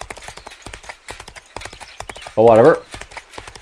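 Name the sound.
horse hooves clip-clopping in the video game Expeditions: Conquistador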